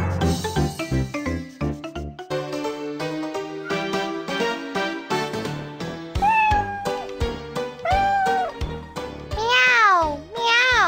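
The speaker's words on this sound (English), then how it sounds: "Meow, meow." A cat meows repeatedly in a Pinkfong children's musical telling of The Bremen Town Musicians, a series of rising and falling meows set against a bouncy musical backing, with a voice also present.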